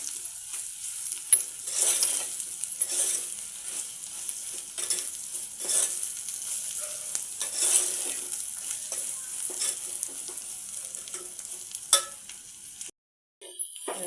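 Eggplant stirred in a pan with chili powder, ginger and garlic, a moderate sizzle broken by repeated scraping strokes of a spoon, with a brief sharp clank and a short gap near the end.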